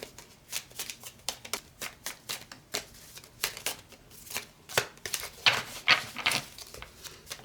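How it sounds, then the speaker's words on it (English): A deck of playing cards shuffled and one card drawn, a close rapid flutter of riffling snaps building to a louder burst near the end, with no talk. "So I'm just going to pull one card"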